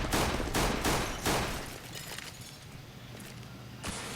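Gunfire from upgraded pistols and a scout rifle in a Counter-Strike pro match on the Train map: several sharp shots in the first second and a half, then sparser, fainter reports trailing off.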